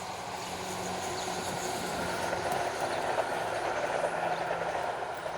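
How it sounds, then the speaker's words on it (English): A train passes near a farm at Broomridge, Stirling, Scotland, as a steady broad rumble with faint wheel clatter that swells slightly and holds for several seconds, fairly close and continuous. "here's the train. Train!"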